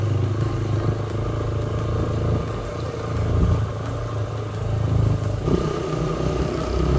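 Steady rumbling motorcycle engines passing close by near Upper Kachura Lake in Skardu, a continuous roar that swells slightly now and then, with no talking.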